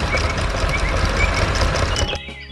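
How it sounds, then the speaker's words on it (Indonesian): A green truck works a farm field, its engine rumbling steadily up close with a higher whine, then cutting off abruptly near the end and leaving a quieter hum. "Truk hijau sedang bekerja keras."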